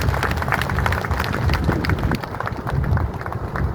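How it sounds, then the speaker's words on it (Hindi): A protest crowd at Jantar Mantar claps and cheers in a dense, steady wash of applause that stays loud throughout, with no clear speech on top. "तो ऐसी सरकार के लिए एक जोरदार ताली हो जाए।"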